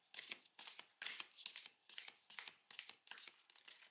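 A tarot card deck is shuffled by hand in a run of about eight crisp, riffling bursts in an even rhythm, close and quiet with no talking.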